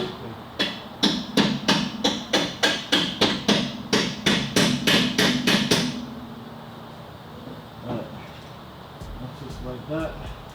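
Steel hammer blows on a tapered bolt at a Honda CR-Z rear shock absorber, about fifteen sharp, close, loud metallic strikes in a steady rapid rhythm, followed by quieter garage shuffling and faint workshop noise.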